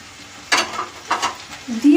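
Sliced onions drop into a hot pot for a Japanese creamy chicken stew, giving two quick sizzling bursts with stirring scrapes close by, and a brief voice sounds at the end.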